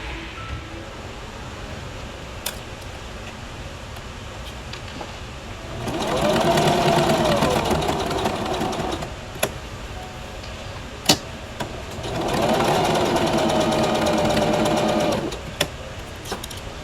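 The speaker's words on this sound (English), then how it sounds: "we're just going to switch the machine from a straight stitch to a zigzag." A sewing machine runs a zigzag stitch on fabric for a butterfly dress in two steady whirring bursts of about three seconds each, with quiet pauses and a few clicks between them.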